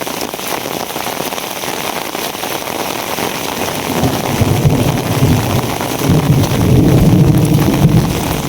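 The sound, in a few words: heavy rain falling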